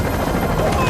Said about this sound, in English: the giant chopper is coming in too close, threatening to detonate further mines